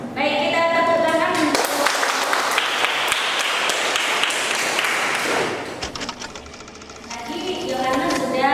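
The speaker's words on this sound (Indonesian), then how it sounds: "kita tepuk tangan" A class breaks into steady applause for several seconds during a teaching practice lesson, dense clapping that fades out near the end as voices resume.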